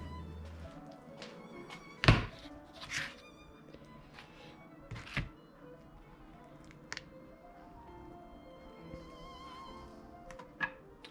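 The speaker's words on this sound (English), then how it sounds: "At this point, I'm more shaving the wood than I am cutting it." Hand carving and shaving wooden screw threads for a Roubo workbench, with quiet scraping strokes and a few sharp knocks and taps spaced irregularly, close and mostly soft, no talking.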